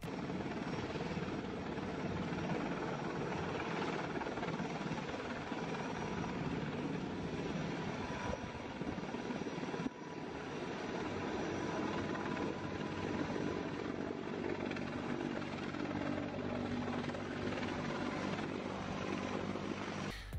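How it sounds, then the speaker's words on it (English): A helicopter's steady, loud rotor and engine roar fills the whole stretch without pause. "This helicopter is strong enough to lift a plane off the runway."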